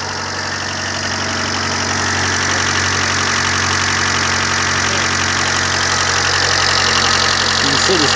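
A 1993 Honda Civic engine running after sitting unstarted for two years, idling evenly with a steady mid-pitched hum and faint ticking, close and continuous throughout.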